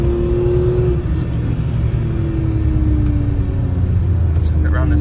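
A Citroen C1 budget track car on a test drive, its engine droning loudly and continuously with rising and falling revs as it heads into a tight corner, a low rumble filling the whole stretch.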